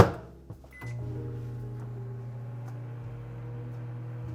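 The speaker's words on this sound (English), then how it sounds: "I'm gonna throw this in the microwave for just a couple of seconds" A microwave oven softening cream cheese: a door click and button press, then a steady low electric hum droning evenly and fairly quiet for several seconds.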